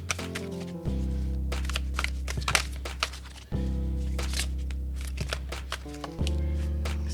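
Art of Manifestation oracle cards being drawn and shuffled from a deck, with a steady papery riffle and slide of cards close by, broken by a few louder shuffles, alone with no talking.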